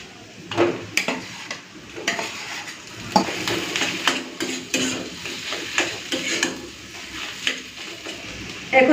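Potatoes are stirred into hot oil with spiced onion, garlic, cumin, turmeric and chili powder, giving a steady sizzle broken by repeated scraping and clinking of a spoon against the pan.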